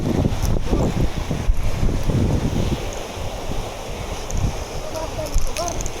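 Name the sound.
wind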